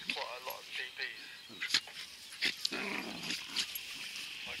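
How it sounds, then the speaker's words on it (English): Several dogs bark in short sharp bursts at a moderate distance, interrupting an amateur radio antenna comparison, with occasional speech in between. "dogs are barking."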